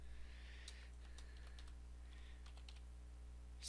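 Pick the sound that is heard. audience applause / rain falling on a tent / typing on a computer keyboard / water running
typing on a computer keyboard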